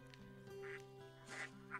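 Quacking, clucking calls from chicken-like creatures in the farming village of Cebalrai in the game Baten Kaitos: several short bursts over a soft steady tonal game background, fairly faint.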